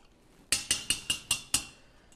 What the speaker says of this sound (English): we're gonna give that a quick little mix